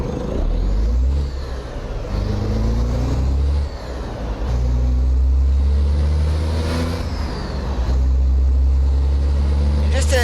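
Truck engine in American Truck Simulator accelerates with a loud, deep drone that rises and falls through gear changes, continuous and close throughout.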